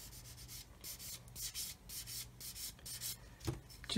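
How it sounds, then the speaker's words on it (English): A hobby blade scrapes the seam on a plastic part of a Meng 1/35 scale 9K37M1 Buk missile model kit, making soft, close, repeated rasping strokes in a steady rhythm. "just scrape the plastic"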